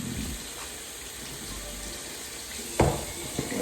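Water runs steadily from a tap during a cleaning task at a Walmart workplace, a continuous close hiss with a brief clatter near the end and no talking.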